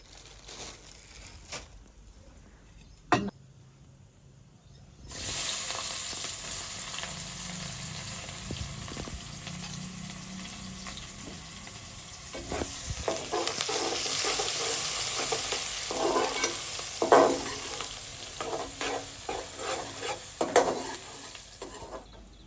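Cinnamon and other whole spices tossed into hot oil in a pan, a steady sizzle that swells midway, with a spoon scraping and stirring against the metal throughout.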